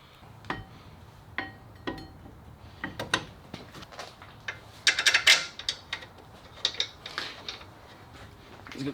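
A torque wrench tightens the brake caliper bolts on a 2000 Mustang GT, making a series of sharp ratcheting clicks and metallic clacks in irregular bursts, close and clear with no talk.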